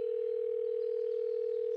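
A phone line gives a steady, unbroken electronic tone for under two seconds while a call is placed to a contact. It sounds clear but quiet, with no voices.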